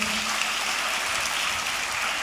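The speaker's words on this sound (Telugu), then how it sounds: "చప్పట్లు కొడుతూ స్తోత్రాలు చెప్దాం" A church congregation claps in praise, giving a dense, continuous wash of many hands that stays loud and even from start to finish.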